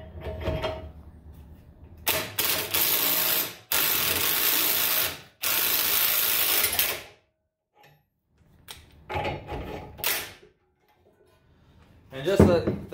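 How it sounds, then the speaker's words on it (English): A 1/2 inch impact wrench hammers on the lower ball joint of a 1996-2000 Honda Civic in loud, close bursts of a second or two separated by short pauses, with a voice speaking in the gaps. "So I'll put on the 1/2 inch impact and we'll blast this thing out."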